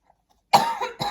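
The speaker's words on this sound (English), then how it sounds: "And with me coughing," A single person coughs: a short burst after a brief silence, then a second harsher cough, close and clear with nothing else around it.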